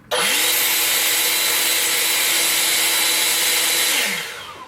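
An EGO 580 CFM leaf blower fitted with a 3D printed stubby nozzle roars at full power, a loud steady broadband rush of air that ramps up quickly, holds for about four seconds, then winds down.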